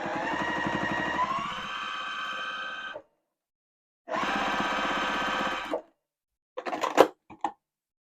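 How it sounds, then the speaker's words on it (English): Sewing machine stitching a quarter-inch seam joining thin 1-inch sashing to a quilt-as-you-go block, running in two steady, close stretches of a few seconds each with a pause between, then a few short clattering stops. "then I'm going to stitch a 1/4-inch seam"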